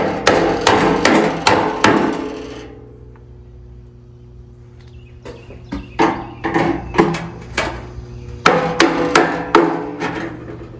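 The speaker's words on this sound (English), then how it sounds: "you tap on it with a screwdriver and a hammer" Sharp metallic hammer taps on a screwdriver during fuel system repairs on a square-body Chevy, in quick bursts, a run of strikes, a pause, then more irregular taps building back into a steady series.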